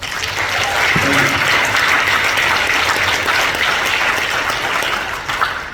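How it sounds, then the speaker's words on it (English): A live audience breaks into sustained applause, dense and even-toned from start to finish, with a faint voice briefly audible under the clapping. "Give this man a big round of applause."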